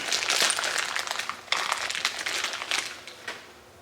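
Plastic bag crinkling and rustling up close as a new clutch slave cylinder is pulled out, loud bursts of crumpling in uneven handfuls, alone with no talk.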